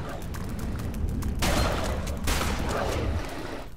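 Gunfire in the co-op video game Alien Breed, a rapid run of dense shots with two sharp louder bursts standing out against continuous game noise.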